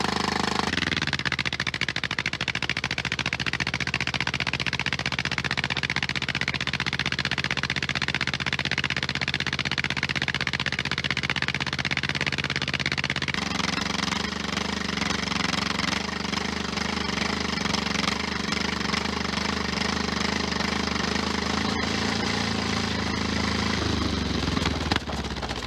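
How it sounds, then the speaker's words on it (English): A K700 tractor's massive engine starts in extreme winter cold in the Russian wilderness, cranking and then catching into a loud, steady, rumbling run that continues for about twenty-five seconds, with no voices. "The massive K700 fires up with a thunderous roar"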